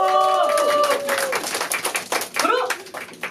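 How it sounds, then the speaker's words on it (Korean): A crowd of fans at an idol group's fan event claps in a scattered, lively burst that grows after a host's shout, with voices chattering throughout. "박수!"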